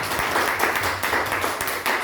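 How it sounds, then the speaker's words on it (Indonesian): A church congregation at a Sunday service in Jayapura applauds enthusiastically, dense and continuous clapping filling the room throughout. "saya rindu kita tepuk tangan yang meriah buat pelayanan hari ini"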